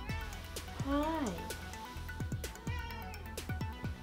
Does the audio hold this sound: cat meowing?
yes